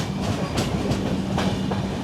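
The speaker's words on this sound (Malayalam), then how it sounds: "ഈ ഒരു സ്ട്രെച്ചിൽ മാത്രമാണ് ഈ ട്രെയിൻ കുറച്ചെങ്കിലും ഡീസൻ്റായിട്ട് സ്പീഡ് പിടിച്ചത്." Jan Shatabdi express with LHB coaches running at speed, a loud close rumble with rhythmic clickety-clack of wheels over rail joints and a faint steady hum underneath.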